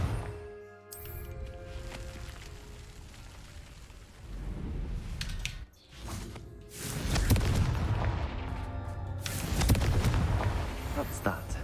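Confringo blasting spells detonate in a Hogwarts video game, several heavy booming explosions arriving in bursts a few seconds apart, each with a rumbling tail, with a voice speaking between them.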